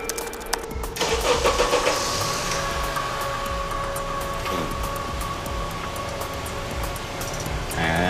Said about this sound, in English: You could start and stop the engine from the other side of the parking lot.